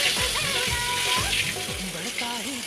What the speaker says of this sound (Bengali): ইলিশ মাছ ভাজা চলছে